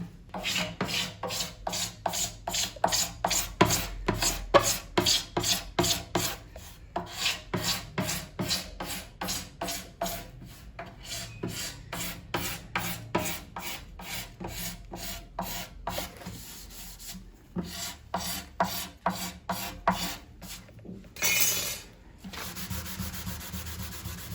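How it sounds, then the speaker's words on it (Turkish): Polyester patches on the body of a divan saz (bağlama) being sanded and leveled by hand, a brisk rhythmic rasping of strokes back and forth, close and fairly quiet, with brief pauses between passes. "Hepsini temizleyeceğiz, tesviye yapacağız ve parlatacağız bağlamamızı."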